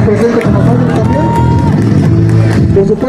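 A lucha libre crowd applauds for a wrestler, a loud continuous mix of clapping, cheering and babble with voices mixed in.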